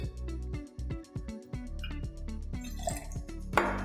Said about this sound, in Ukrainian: Далі наливаємо сухий вермут.